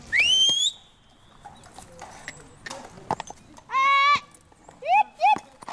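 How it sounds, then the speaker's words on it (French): A herd of horses gallops during a transhumance, with scattered hoofbeats and several loud, close whinnies ringing out over the movement. "Là, c'est un peu le troupeau qui décide et on ne prévient pas, attention, ça va galoper."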